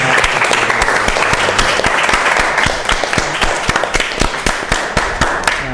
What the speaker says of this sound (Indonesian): Ayo kita tepuk tangan untuk kita semuanya